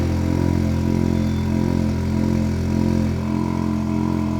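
A Cupra Ateca with its GPF deleted idles in Cupra mode, its exhaust giving a loud, steady, deep drone close by.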